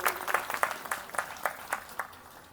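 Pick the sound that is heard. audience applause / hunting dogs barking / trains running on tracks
audience applause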